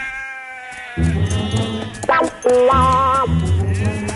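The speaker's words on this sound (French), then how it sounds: "Tiens, des moutons." Sheep bleat loudly and close by in a cartoon set in the American West, several wavering cries overlapping in quick succession, some drawn out and some short.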